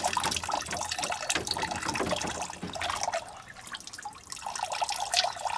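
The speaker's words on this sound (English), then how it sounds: "I'll put the big hose in here to fill it." Water gushing from a hose into a container, a splashy turbulent rush that eases briefly before surging again.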